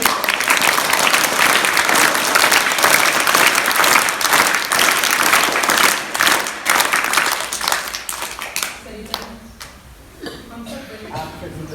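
Schoolchildren and guests greet visitors with enthusiastic clapping, loud and dense at first, then thinning and tapering off into scattered claps and murmured voices.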